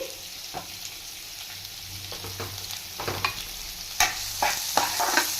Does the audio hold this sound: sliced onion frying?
yes